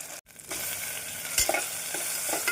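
Chopped tomatoes sauté in a pan for a mushroom curry, a steady close sizzle with a few soft stirring scrapes and clicks, continuous.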